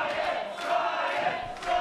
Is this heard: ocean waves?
no